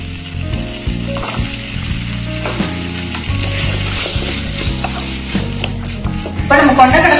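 Chickpeas and potatoes sizzle and fry in a pan while a spoon stirs them for Kumbakonam kadappa kurma, with steady close frying and repeated scraping, clattering strokes throughout.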